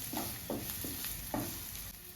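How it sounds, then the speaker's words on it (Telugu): Thinly sliced onion pieces fry in a pan with a soft, quiet sizzle, broken by several rhythmic scraping stirs roughly every half second. "సన్నగా కట్ చేసిన ఉల్లిపాయ ముక్కలు వేస్తున్నాను."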